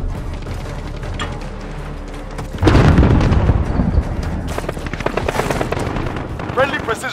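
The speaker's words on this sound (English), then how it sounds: "Grenade out." A grenade blast in the Call of Duty: Modern Warfare video game, a loud, heavy boom landing partway through amid ongoing gunfire and battlefield noise, with a rumbling tail that fades into continued combat sounds.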